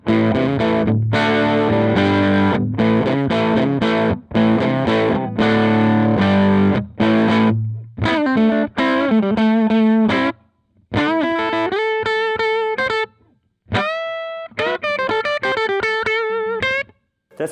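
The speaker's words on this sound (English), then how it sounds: "I'm going to let you hear what the amp does at a quarter power just driving the tubes." Devilcat Mean Jean tube guitar amp at quarter power, played clean through the tubes with no boost or dirt channel: loud distorted chords and riffs with brief pauses, then sustained ringing single notes and bends.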